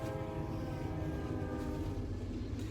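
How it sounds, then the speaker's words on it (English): A train rumbles steadily past outdoors on a snowy day, a dense continuous roar of rail noise holding at an even level throughout. Faint tonal traces hint at a distant horn, and no voices are heard. "So oh, there's a train."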